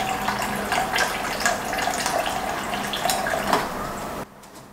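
Tap water runs steadily and fairly loudly into a bowl to soak dry seaweed, a continuous splashing rush that stops abruptly near the end.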